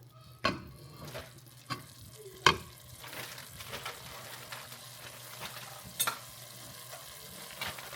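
Brown sugar glaze mixture for keke pua'a heats in a pot on the stove, a quiet, steady bubbling sizzle broken by occasional sharp clicks and utensil knocks.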